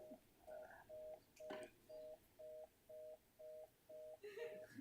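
A telephone in a lecture hall rings with a steady pulsing electronic tone, about ten evenly spaced short beeps, faint and distant under the room's low background noise.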